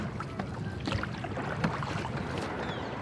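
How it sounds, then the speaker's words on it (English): A small boat is rowed toward shore with one oar and a paddleboard paddle, with irregular splashes and water sloshing under steady wind rumble on the microphone, no speech. "Rowing to shore with one oar that we have left and the paddleboard paddle on the other side"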